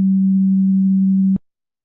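A pure 200 Hz sine tone plays alone, steady and fairly loud, holding for just over a second before stopping abruptly with a faint click.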